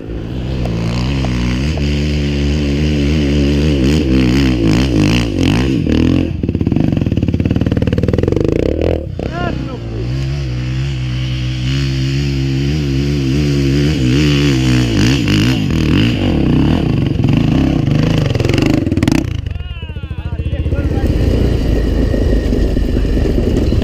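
A trail motorcycle engine roars and revs up and down, close and loud, with a drop in pitch midway before the throttle opens again, at a trail riders' meet.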